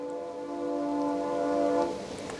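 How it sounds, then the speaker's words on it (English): A train rumbles past at moderate distance at night near 1850s lime kilns, a sustained low hum with steady tonal lines that swell and then ease off, no talking. "there's a train going by"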